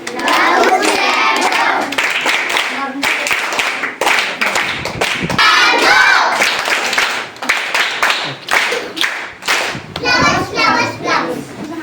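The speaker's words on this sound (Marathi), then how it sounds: "सगळ्यांनी परत एकदा टाळ्या वाजवायच्या" Schoolchildren at a village primary school quiz clap their hands together in bursts, loud and close, mixed with excited children's voices and chatter throughout.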